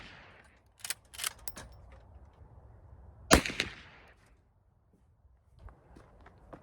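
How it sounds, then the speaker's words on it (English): Three rifle shots from a Winchester-style Model 94 lever-action in .44 Magnum firing 240 gr XTP bullets at a 50-yard range, sharp loud cracks spaced apart with mechanical clatter of the lever between them. "I'm gonna take 3 shots with the 94 at 50 yards"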